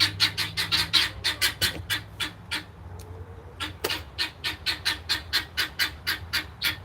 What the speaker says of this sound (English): That's the guinea hens. That noise, I tell you what.